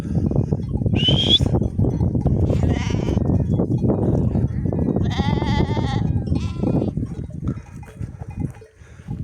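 A flock of sheep grazing on thin pasture grass bleats repeatedly, several loud, wavering calls rising over a dense bed of munching and shuffling close by, with a person talking briefly in the background.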